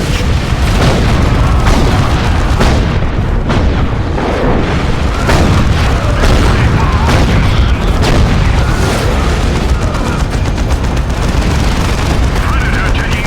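Missiles striking a Predator tank in the video game Dawn of War II, a loud, unbroken barrage of booming impacts and rumbling explosions with repeated heavy hits, under occasional voices.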